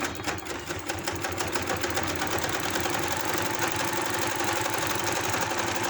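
A sewing machine stitches the folded hem of palazzo pants, its needle hammering in a fast, even rhythm close by, with no talking.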